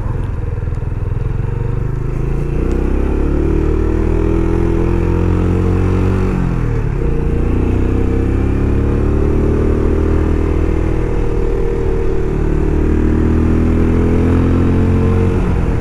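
Benelli Imperiale 400 single-cylinder motorcycle, a 1950-style model in 2020 form and not yet run in, running at low revs around 2000 rpm while riding, a steady close thumping drone with gentle rises and dips in pitch.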